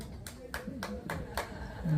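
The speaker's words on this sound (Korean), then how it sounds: "이왕 박수 치시려면은 힘차게 예." An audience at a barefoot walking festival in Hamyang Sangnim Forest, Korea, claps in about five firm, evenly spaced beats. A voice can be heard faintly underneath the clapping.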